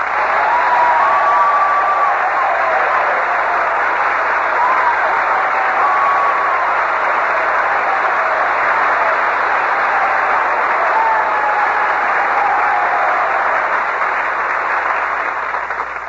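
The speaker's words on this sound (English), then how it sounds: "Well, Robert, you can tell by that applause that these boys are all intensely interested in your Navy career." A radio show audience of boys gives sustained, steady applause for a navy commander, a dense even clapping that holds for the whole stretch with no voices over it, slightly muffled and band-limited like an old broadcast recording.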